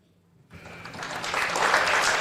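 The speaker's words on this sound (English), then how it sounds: "Round of applause, and our colors" Crowd applause at a high school basketball game between Riverton and Kelly Walsh, starting after a quiet moment and swelling into loud, sustained clapping from a gym full of spectators.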